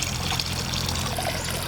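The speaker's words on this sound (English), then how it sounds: "Looks like water's flowing out of that pump." Water trickles steadily from a garden pond pump, a close, continuous splashing dribble with no talk over it.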